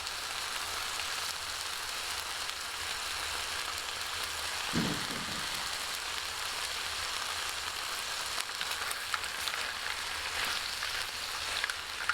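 Steak fries in sauce on a Skottle braai outdoors, giving a steady, close sizzling hiss that runs unbroken through the whole stretch, with one brief low thump partway through.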